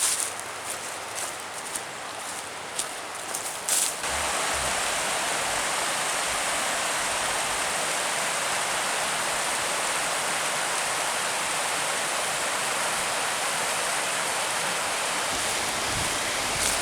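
A loud, steady roar of rushing water from a waterfall at Naval Run, close by, broadband and unbroken, after a few seconds of quieter, uneven splashing and rustle.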